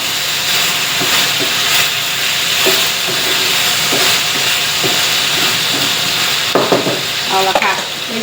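Salted chicken is stir-fried in a pan, with a steady loud sizzle and hiss throughout. Faint periodic scrapes of the spatula run under it, and a few sharper clatters come near the end.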